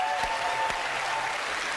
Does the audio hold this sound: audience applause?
yes